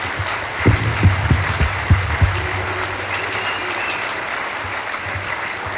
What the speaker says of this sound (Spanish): así que ese es un aplauso